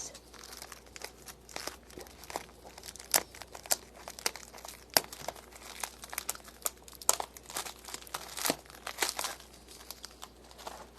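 Crystals wrapped in bubble wrap are unboxed, giving steady close crinkling and crumpling with frequent sharp crackles and occasional tearing, continuous for about eleven seconds with no talking.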